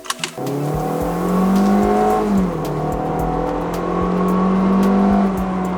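A Kia Sportage with a non-turbo engine drives smoothly, with a steady, loud engine hum and road noise heard from inside the car. Pitch rises and settles in gentle waves, and no one speaks.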